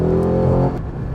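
Audi R8 with its V8 engine revving, a loud close rumble that holds steady and then drops off in the final half second.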